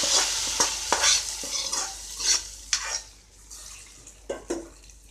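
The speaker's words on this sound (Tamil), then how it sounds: "தாளித்தது இதில் கொட்டினதுக்கப்புறமா நல்லா கிண்டி விட்டுடலாம்" Tempering of onions browned to a deep brown is tipped into bottle gourd koottu and stirred in a pot, with scraping spoon strokes and brief soft sizzles recurring through the mix.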